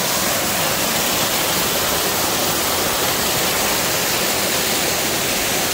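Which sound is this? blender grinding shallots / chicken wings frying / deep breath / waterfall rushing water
waterfall rushing water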